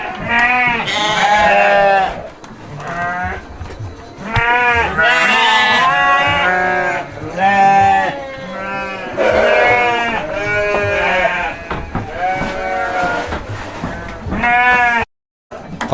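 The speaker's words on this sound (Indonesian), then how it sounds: "domba dari mitra nih" Garut sheep on a breeding farm bleat loudly and repeatedly, with several long, wavering calls overlapping close by and barely any pause between them, apart from one brief dropout near the end.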